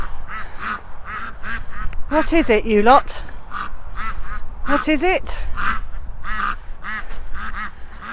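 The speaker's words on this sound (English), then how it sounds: "The ducks, the ducks seem to have gone into meltdown." A flock of runner and Aylesbury ducks breaks into loud, frantic quacking in two bursts, with a person calling out to them in between.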